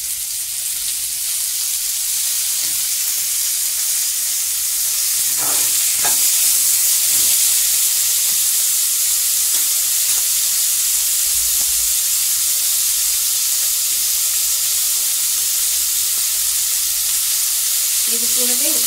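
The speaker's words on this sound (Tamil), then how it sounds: "ஒரு நிமிஷம் வெங்காயம் வதங்கணும்" Onions sautéing in a pan for a quick chapati gravy, a steady loud sizzle and frying hiss running throughout with a few brief stirring scrapes.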